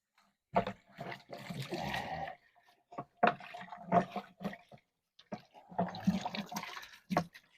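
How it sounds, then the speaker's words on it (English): Water from a hose splashes and gushes into a shop vac bucket as it is rinsed out, coming in several loud, close bursts with short pauses between them. "what you also want to do is rinse out the bucket. So, use the hose here."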